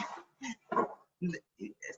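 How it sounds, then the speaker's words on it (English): A pet dog barks indoors, six short, sharp barks in an uneven rhythm with quiet gaps between them, close to the microphone and heard alone without talk. "my dog started barking"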